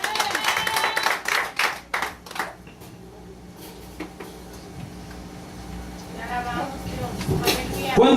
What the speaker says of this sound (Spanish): Usted puede dar un aplauso al Dios de Est-ce qu'on gloria.